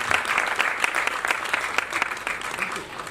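An audience at the Nataraj Gopi Krishna Parampara Samman award ceremony applauds, many hands clapping loudly in a lively, sharp patter that continues throughout, with a voice heard partway through.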